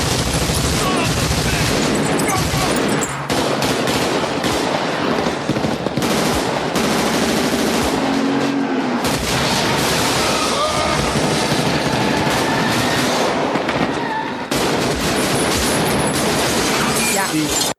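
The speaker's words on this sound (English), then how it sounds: "let's listen to again this gunfire and car crash because it's kind of cool" Dense, loud burst-fire of automatic weapons and crashing impacts from the street shootout in the film Heat, rapid overlapping shots with shattering and metallic crunches, relentless and close.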